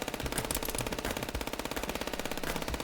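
Rapid automatic gunfire in the FPS Chess video game, a fast, evenly spaced stream of loud shots continuing without pause for about three seconds, close and unaccompanied by speech.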